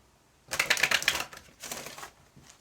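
Tarot cards riffle quickly in two close rustling bursts, the first longer and louder, followed by a faint brief flick.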